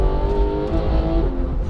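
A Porsche 991 GT3 engine revving hard under way, a loud, dense, continuous mechanical roar heard from inside the car with no speech.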